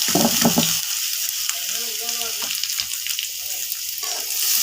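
Washed lentils fry and get stirred in a hot pan with browned ingredients. A loud, steady sizzle runs throughout, and a voice speaks briefly beneath it.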